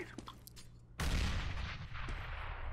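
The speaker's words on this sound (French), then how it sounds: "Une grenade qui est partie." Grenade exploding in the CS:GO video game, a single sharp, loud blast with a rumbling decay after a few faint clicks.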